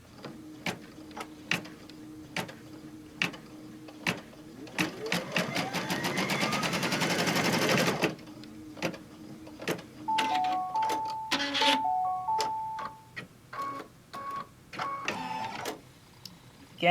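An embroidery machine stitches the placement line on a mug wrap in the hoop, ticking with single clicks, then running a steady rapid stitching buzz for a couple of seconds, followed by electronic beeps and further intermittent clicking.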